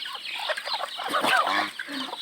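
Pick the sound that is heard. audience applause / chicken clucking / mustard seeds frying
chicken clucking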